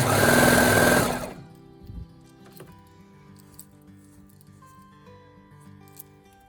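A sewing machine stitches a bodycon dress in a short loud close burst that stops abruptly, followed by a few quiet clicks and a faint lingering hum.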